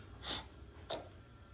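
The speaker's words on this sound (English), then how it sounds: "Sorry, I got the sniffles." Two quick, quiet nasal sniffs about half a second apart, close and soft against a low background hiss.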